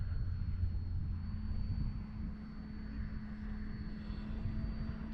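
An E-flite Valiant RC airplane drones steadily overhead on its maiden flight, a constant engine hum at moderate distance with some wind noise over the microphone.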